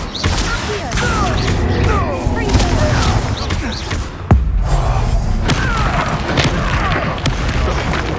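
Confringo blast spells explode in Hogwarts Legacy on PS5, heavy booms and thuds amid clattering combat noise, one sharp blast standing out midway, with voices talking throughout.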